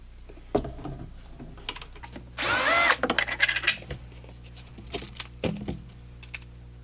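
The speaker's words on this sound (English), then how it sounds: "So we'll pilot hole this one up here." A handheld power drill bores a short pilot hole into a van's shelf or body panel, one loud burst of about half a second standing apart from scattered clicks and handling clatter of tools nearby.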